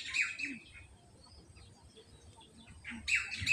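Birds at Hong Kong Wetland Park give faint, high chirps in two short bursts, one at the start and one near the end, over quiet outdoor background noise.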